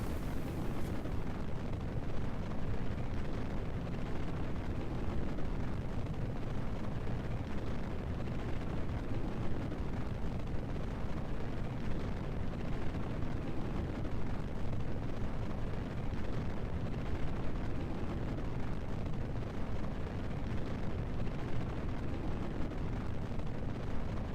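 Rocket engine roaring during ascent in Kerbal Space Program, a continuous dense rumbling roar that holds steady and loud throughout with no pauses.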